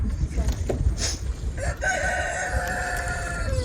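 A rooster crows once in a drawn-out call on a cold farm where ducks and roosters are kept together, heard fairly close over a low rumble of outdoor noise.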